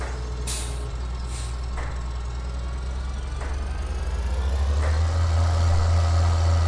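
A farm tractor engine idles with a steady, deep, close throb, with a few faint clicks and knocks over it.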